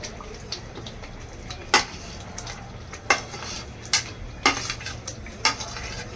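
Paneer going into a pan of cooked peas for a Maharashtrian paneer-peas bhaji, with a spoon scraping and clinking against the pan in several sharp knocks over a low simmering hiss.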